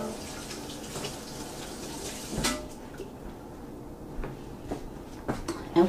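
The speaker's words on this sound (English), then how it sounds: "Let me wash my hands." Tap water running steadily over hands in a home kitchen sink, with soft splashing and a few light clinks, a voice speaking briefly over it.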